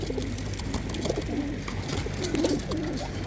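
Tippler pigeons coo softly and repeatedly in a loft, several low throaty calls overlapping close by against a steady background hum.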